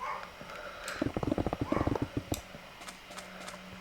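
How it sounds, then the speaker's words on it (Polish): A dog barks in a quick burst of several close, sharp barks in a row, then falls quiet, heard faintly behind the room sound of a player's gaming session. "Nie wnikajcie, mój pies sobie szczeka, szczeka hał, hał."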